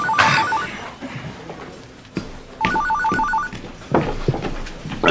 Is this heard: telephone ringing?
yes